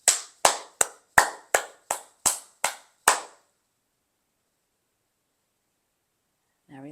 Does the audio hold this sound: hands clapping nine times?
yes